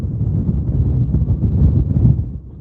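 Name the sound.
strong wind gust during tropical storm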